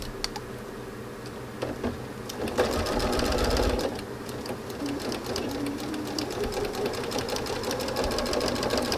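Sewing machine stitching the seams of a quilt block, a steady rapid mechanical whirr with clicking needle strokes, close and continuous with small pauses and speed changes.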